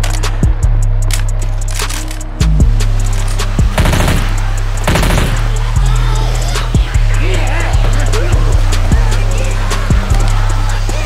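Gunfire in Left 4 Dead 2, with loud close bursts of automatic weapons and single shots over a steady low background hum, separated by short gaps.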